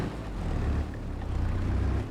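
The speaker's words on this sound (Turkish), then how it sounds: "Yani traktör dediğim gibi efsane bir bağırışı var." Deutz Fahr tractor engine hauling a heavy carrot load in Farming Simulator 25, a low, rumbling roar that swells and dips slightly across the short stretch, with no talking.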